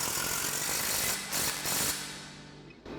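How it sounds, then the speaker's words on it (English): A ratchet on a 21mm swivel socket clicks rapidly and steadily while tightening a shock bolt on a Jeep Gladiator JT, close and continuous with a couple of brief pauses. "using the same tools, our 21mm swivel socket and our 13/16 wrench"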